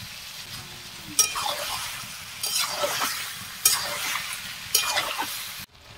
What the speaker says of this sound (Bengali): দেখুন মাংসটা আমার ভাজা হয়ে গেছে, হালকা ভেজে নিয়েছি